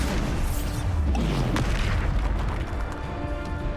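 Bombarda explosion spell going off in the video game Hogwarts Legacy, a heavy booming blast with a falling rumble amid continuous combat noise, loud and close, with no voices.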